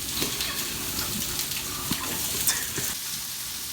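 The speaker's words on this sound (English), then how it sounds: "we're gonna put our vegetables into the pan with 2 tablespoons of olive oil to" Vegetables sauté in a pan with two tablespoons of olive oil, giving a steady, close sizzle and crackle with occasional stirring clatter. No one speaks.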